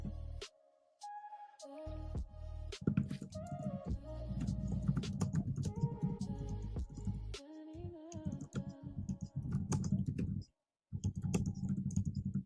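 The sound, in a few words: typing on computer keyboard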